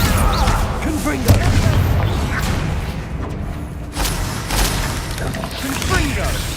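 Spell blasts and booms from the Confringo fire spell going off repeatedly in Hogwarts Legacy combat on PS5, several loud thuds and whooshes spread through a dense, busy battle mix with voices over it.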